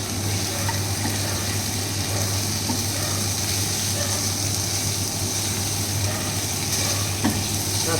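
Katla fish curry with green chillies frying in a pan, a steady dense sizzle running unbroken throughout with soft stirring scrapes, close and fairly loud, no talk.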